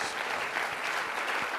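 Applause for panelists at a war anniversary symposium, a brief dense burst of many hands clapping evenly at moderate volume, with no speech over it.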